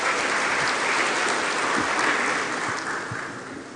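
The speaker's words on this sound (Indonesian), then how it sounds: "kita beri tepuk tangan dulu untuk orang-orang hebat yang ada di depan ini" An audience at a university yudisium graduation ceremony for the Faculty of Islamic Economics and Business at UIN Sumatera Utara breaks into loud, dense applause that holds steady, then gradually thins and fades toward the end.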